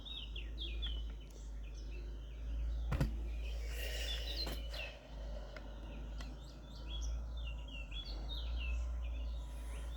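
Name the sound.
birdsong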